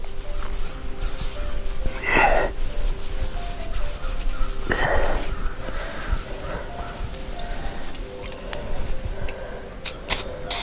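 Scrubbing dirt and gunk out of the sliding groove of a truck camper, heard as continuous rough rubbing with a few sharper, louder scraping bursts.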